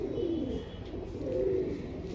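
A pigeon coos in low, soft rolling phrases close by, repeated twice over a faint steady background hum.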